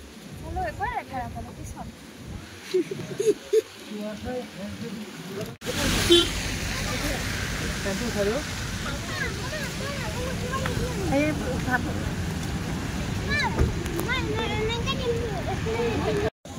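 Steady rain whooshing outdoors in the Meghalaya hills, a broad continuous wash that runs throughout, with scattered voices and speech over it and a sharp jump in noise partway through.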